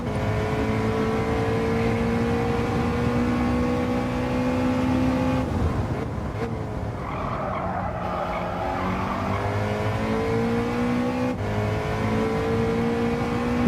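Race car engine over-revving at Watkins Glen, a loud sustained high-pitched whine with shifting pitch, briefly dipping midway, with faint tyre squeal, no talk over it.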